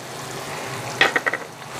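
Tomato and ginger paste frying in oil sizzles softly and steadily, then a quick burst of spoon-on-pan clinks and stirring scrapes, close by, without speech.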